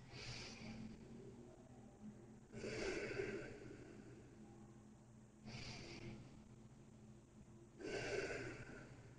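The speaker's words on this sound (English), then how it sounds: "Keep the nice deep breaths going" Slow, deep breaths during a yoga bridge exercise, three or four long airy inhales and exhales in a steady rhythm, close and fairly quiet with no talking.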